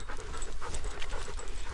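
Dog panting close by on a narrow moorland path, quick rapid breaths repeating steadily against faint outdoor background, fairly quiet with no talk.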